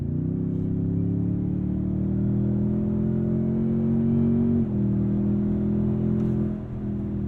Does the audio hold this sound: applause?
no